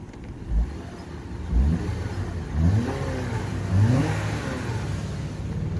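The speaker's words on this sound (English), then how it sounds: "Show you under the hood here. Motor runs real good." A four-cylinder car engine runs under the open hood, smooth and steady with several brief revs swelling and falling in a regular rhythm, close and fairly loud with no talking.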